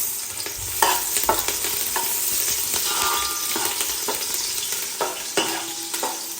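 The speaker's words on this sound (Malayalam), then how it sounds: "നമ്മൾ കുറച്ച് എണ്ണ ചൂടായപ്പോൾ കുറച്ച് വെളുത്തുള്ളിയും പച്ചമുളകും ഇട്ടിട്ടുണ്ട്." Garlic and green chillies crackle and sizzle in hot oil in a home kitchen pan, with a constant loud frying hiss and occasional stirring scrapes and knocks.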